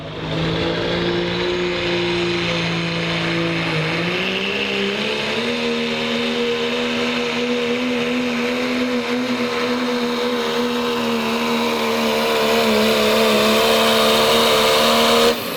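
A pulling truck's engine roars loud and close at an East Coast truck pull, holding a steady howl that dips briefly and then climbs in pitch and strength under full strain.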